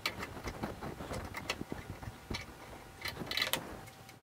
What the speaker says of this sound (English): grab an adjustable wrench and go ahead and tighten it all the way down